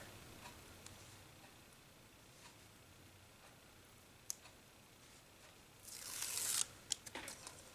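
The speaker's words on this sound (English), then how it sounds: "try and peel these edges off" Tape being peeled off a spool during a cross-stitch finishing job, a burst of sticky ripping and crackling near the end, followed by a few sharp clicks after a quiet stretch of faint ticks.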